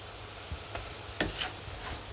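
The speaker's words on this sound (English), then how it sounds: "Lovely sizzling prawn." Prawns sizzle in a hot pan for a prawn carbonara, a soft continuous frying hiss with faint crackles and a few light stirring knocks, close but fairly quiet, with no talking.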